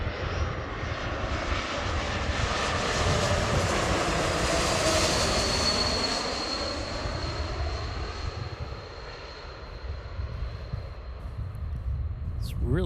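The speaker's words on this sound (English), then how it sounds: "It's really cool sounding engines." Jet engines of an Airbus A220 on landing approach make a steady, loud broadband roar with a high whine, swelling and holding close overhead, then easing slightly.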